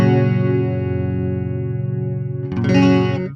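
Electric guitar played through a stereo chorus pedal, a sustained shimmering chord wavering steadily before a fresh strum brightens it near the end, clear and alone.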